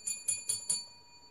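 A metal desk bell is struck four times in quick, even succession, each ding bright and ringing, then fading into a short quiet tail.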